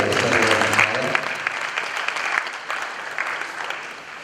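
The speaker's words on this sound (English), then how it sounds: "A round of applause one more time" Audience applause at an art awards ceremony, a dense sustained clatter of clapping that starts loud and continues steadily for several seconds, with a low voice briefly audible at the very start.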